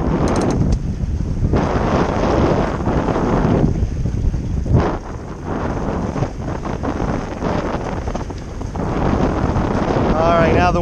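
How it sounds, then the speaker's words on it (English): Strong wind buffets the microphone aboard a sailboat under way, a constant loud rushing roar that surges and eases in gusts over about ten seconds. "now the wind's gonna die because we go behind these docks"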